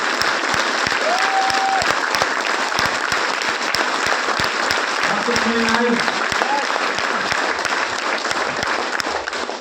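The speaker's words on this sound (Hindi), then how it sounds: "अब ताली बजा के दिखाओ और जोर से, और जोरदार, और जोरदार, और जोरदार।" A large audience at a direct selling seminar claps loudly and steadily throughout, a dense continuous roar of applause with a few faint voices in the background.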